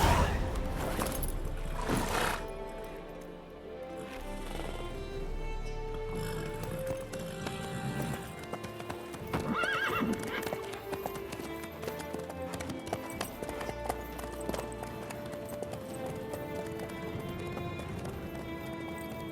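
Horse hooves clip-clopping at a run with occasional neighing in the fantasy game The Witcher 3, loud and continuous over background music and ambience.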